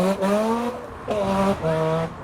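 A Mazda RX-7 drives at a crazy car meet, its engine revving in sustained pitched bursts that rise and fall with short gaps between, loud and close.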